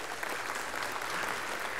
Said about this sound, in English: Look, everybody's clapping.